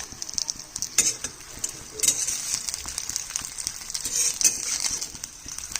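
Gima and shefali leaf fritters frying in oil, a dense crackling sizzle throughout with bubbling pops and a few louder scraping clinks from stirring nearby.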